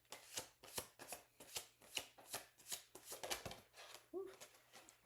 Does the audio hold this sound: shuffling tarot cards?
yes